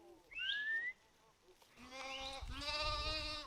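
Sheep bleat in a Himachal Pradesh mountain pasture, first a single high wavering call, then after a short pause a longer, louder bleat close by, heard alone without talk.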